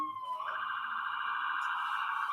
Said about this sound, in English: Uh-oh, here comes the siren.